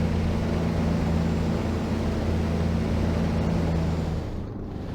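A WWII Spitfire engine in the WWII Online flight game drones steadily with a low, even roar, then the throttle is cut near the end and the engine note drops and fades, with no talk over it.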